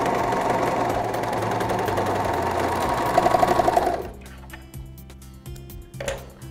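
A serger sewing machine stitching a two-thread flatlock runs as a close, rapid mechanical whir for about four seconds, then stops, leaving quieter handling clicks and a brief soft whir near the end.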